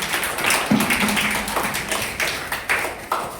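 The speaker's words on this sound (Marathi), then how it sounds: "एकदा तुम्ही स्वतःसाठी जोरदार टाळ्या वाजवा" Students at a school Word Champion competition clap together, a steady run of scattered hand claps across the room with crowd murmur beneath.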